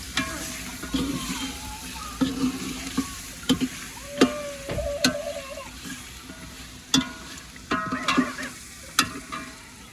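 Chicken frying in a pot for pulao, a constant sizzle broken by repeated clanking stirs and scrapes of a spoon against the metal, close and busy throughout.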